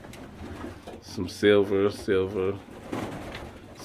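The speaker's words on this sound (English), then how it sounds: "almost everything else in here I thought was homing pigeons when I bought them" Homing pigeons coo in a loft, two loud, close, throaty rolling coos in the middle, with a person talking briefly around them.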